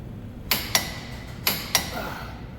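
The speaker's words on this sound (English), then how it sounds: "All right, so let's torque these wheels." A torque wrench tightening lug nuts on a car wheel gives four sharp, close clicks in two quick pairs over a quiet background.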